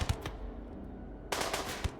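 Gunfire in RimWorld colony combat, two bursts of rapid automatic shots, a short one at the start and a longer, louder volley near the end, with a quieter gap between and no talking.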